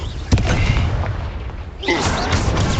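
A Confringo fire spell goes off in Hogwarts Legacy with a sudden booming thump, a second blast following shortly after, both close and loud amid dense combat noise.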